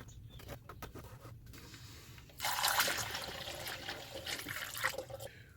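Coolant drains out of a Mercedes cooling system through a small pinhole. A quiet trickle and dribble becomes a louder, steady gushing pour partway through, and it continues near and alone with no talking.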